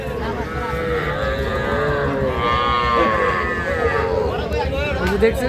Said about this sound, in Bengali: এই পাশে কিছু সার বাছুর দেখতেছি আমরা